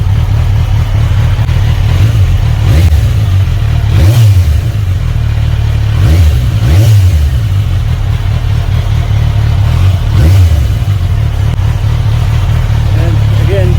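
A Kawasaki Versys 1000 SE motorcycle fitted with an Akrapovic slip-on exhaust idles with a loud, deep rumble close by, swelling in several distinct throttle blips and revs over a constant low drone.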